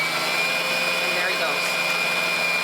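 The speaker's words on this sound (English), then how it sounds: "Once we pull it over, our sewing machine is ready to thread that bobbin." A sewing machine winds thread onto a bobbin with a steady, continuous whirring hum, loud and close, while a person briefly speaks over it.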